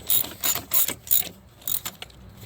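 A ratchet wrench with a swivel tightens a transmission bolt on a Dodge Durango 3.6L, a close series of rapid clicking bursts, about five pulls with short pauses between.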